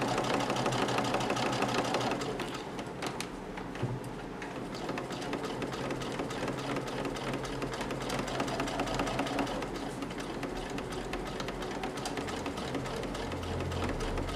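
A sewing machine stitches fabric for a wall-hung planter, a fast even mechanical whir and needle clatter that runs steadily the whole time, pausing briefly near the start, with no one talking.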